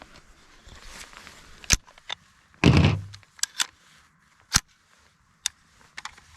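A Ruger AR-556 fitted with a CMMG .22LR conversion fires, giving sharp short cracks spaced a second or so apart, with one heavier thump among them and quiet handling noises in between.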